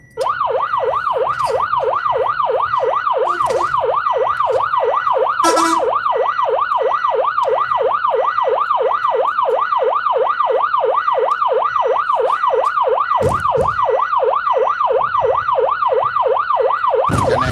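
An ambulance siren wails continuously on a foggy road, a steady rapid up-and-down warble held loud and close throughout, with brief bursts of other road noise in the background.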